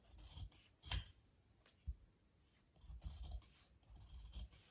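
Scissors snip through stiff buckram fabric while cutting out neck designs, giving short crisp close-up cuts in separate bursts with quiet gaps between them.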